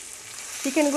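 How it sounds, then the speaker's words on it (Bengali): Chicken pieces fry over a low gas flame with grated garlic for a Bengali-style Kolkata chicken stew, giving a steady soft sizzle, with a voice beginning to speak near the end. "লো ফ্লেমেই কিন্তু চিকেনটাকে আমরা একটু ফ্রাই করব"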